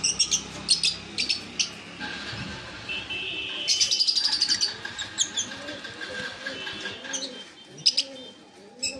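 Chirping and cooing birds fill a bird shop, with lovebirds among them: many overlapping short chirps and tweets, some near and loud, others farther off, with a few wing flaps and no talking.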